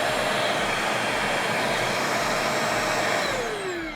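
A steady, loud motor whine of a Riccar R25 upright vacuum cleaner running continuously with its brushroll not spinning, with a pitch that drops slightly as it begins to wind down at the end.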